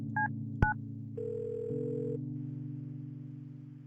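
A telephone in the game Kathy Rain is dialed, a few short touch-tone beeps and a sharp click followed by a steady dial or ringing tone that hums on to the end, with no talk.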